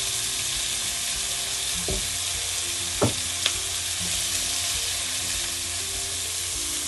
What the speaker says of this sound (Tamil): இப்போ இந்த வெங்காயம் வதங்கி கொண்டிருக்கையே நான் இந்த பிரட்டி வச்சிருக்கிற இறாலை இதுக்குள்ள போடுறேன்